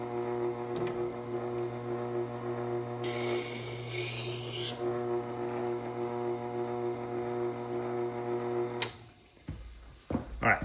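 A knife is sharpened on a Tormek sharpener with a steady grinding hum and a brighter rasp of steel against the stone partway through, then the machine winds down and small handling clatters follow.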